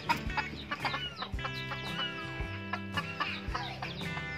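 A domesticated red junglefowl, about four to five months old and kept at home, clucks in short repeated bursts close by, with sharp calls scattered irregularly and no talking.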